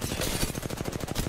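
Rapid automatic gunfire from Apex Legends rattles in a fast, even burst of roughly a dozen shots per second, steady and fairly close, with no talk over it.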